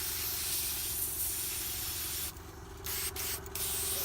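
Airbrush blowing fresh water through its nozzle while being cleaned, a steady close airy hiss with a low hum beneath, cut by brief pauses near the end.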